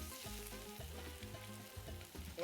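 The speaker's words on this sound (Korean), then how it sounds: "양송이에서 이제 약간의 이제 수분이 나올 때까지 볶아주시면 돼요." Vegetables and button mushrooms stir-frying in a pan, with a continuous loud sizzle and repeated scraping strokes of a utensil at a steady rhythm.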